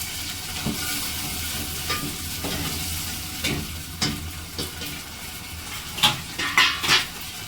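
Food sizzles and fries in hot oil in a home kitchen, a steady crackling hiss broken by scraping stirs and light clinks of a spoon against the pan.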